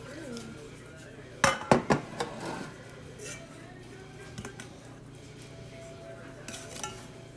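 A knife scraping around the edge of a pan in a home kitchen, a cluster of sharp metallic clinks and scrapes, then softer scattered taps, with a person talking nearby.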